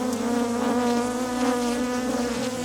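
Honey bees hum in a steady, dense drone around a beehive frame where they draw out wax comb to store honey, continuous and fairly close, with no talk over it.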